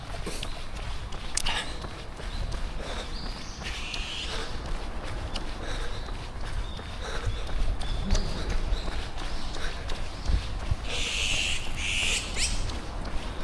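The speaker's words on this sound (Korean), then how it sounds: "새소리 들리세요? 새소리?" Birds chirp and call outdoors during a morning run, with scattered bright calls over steady footfall and breathing-like noise, some calls clearer toward the end.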